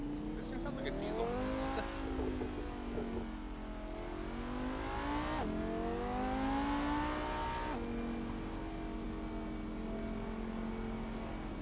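An Alfa Romeo car engine revs in a racing video game, its pitch climbing in long sweeps and dropping with each gear change, fairly quiet and continuous.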